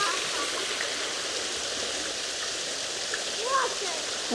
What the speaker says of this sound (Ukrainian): This is a fountain.